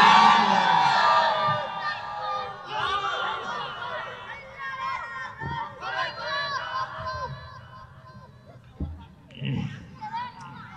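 Large crowd at a Bengali Islamic religious rally in Rangpur roaring takbir together, a loud massed shout at the start that fades into scattered voices and chatter.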